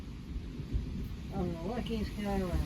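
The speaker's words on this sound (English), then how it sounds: "Got a nice thunderstorm coming in." A thunderstorm approaching, with a low rumble of thunder and steady background rain noise under someone speaking briefly near the microphone.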